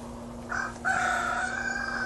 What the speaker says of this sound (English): We've got about 20 chickens now.